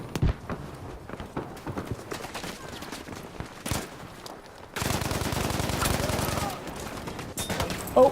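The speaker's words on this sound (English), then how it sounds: "Oh, somebody shoot at me." Battlefield V open beta gunfire aimed at the player: scattered shots early on, then a loud, sustained rattling burst of rapid fire for a couple of seconds, then a few more cracks near the end.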